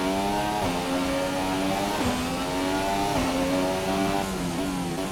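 A Formula 1 car engine in the F1 2018 racing game with a sound mod on the Australian GP circuit revs steadily with a high, loud, continuous whine, rising and dropping as gears shift.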